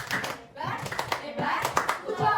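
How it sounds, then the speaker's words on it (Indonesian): Schoolchildren in an Indonesian classroom clap together in a short rhythmic cheer for a group, with sharp, uneven bursts of hand claps mixed with children's voices. "beri tepuk hebat dulu untuk kelompok 1"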